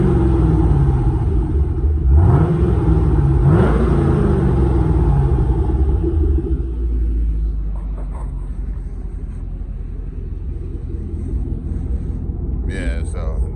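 A 2011 Camaro LS V8 with a Corsa exhaust accelerates through the gears with a loud, deep rumble and rising revs, easing off to a lower steady drone later while a voice talks over it.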